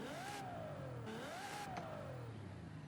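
A 2002 Ferrari 575M engine in Forza Horizon 5 revs up and down in two smooth sweeping rises, a moderately loud, steady engine tone with no talking.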